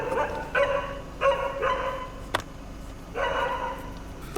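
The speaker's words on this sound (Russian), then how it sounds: "Даже собаки, даже здесь, будучи в городе, и тут они меня преследуют." Dogs bark in a city courtyard, four or five loud, close barks with short gaps between them and a sharp click partway through.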